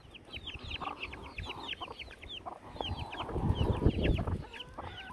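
A hen clucks repeatedly in loud, quick bursts close by, with softer chirps and farmyard rustling in the background.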